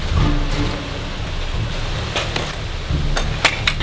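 Rain falling outdoors during a home office makeover, a continuous soft hiss with scattered sharp taps and patters throughout, with no voices.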